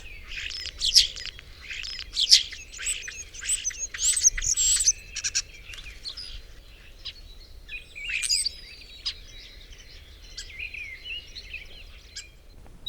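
Small garden birds, including great tits, chirp around a fat ball feeder in short bright bursts of high tweets and calls, fairly close, with pauses between clusters and a quiet background.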